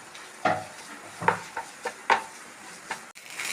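Coconut oil fries in a pan, a low sizzle broken by several scraping stirs of a utensil against the pan at an uneven pace, with no talking.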